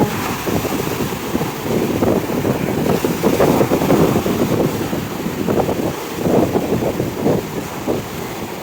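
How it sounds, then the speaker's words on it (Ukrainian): Black Sea waves rolling onto the central beach of Zolotyi Bereh in Odesa, a constant loud wash of surf heavily buffeted by wind rumbling across the microphone, with no voices. "Ви подивіться на ці хвилі."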